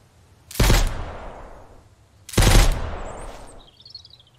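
Two loud, sharp gunshots from the survival video game Mist Survival, spaced about two seconds apart, each ringing out with a long echoing decay and faint bird chirps following.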